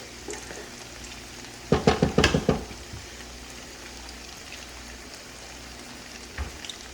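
Rice is stir-fried in a pan with a soft, steady sizzle. A quick burst of scraping and tossing strokes comes in the middle, and a few lighter clinks and stirs follow later.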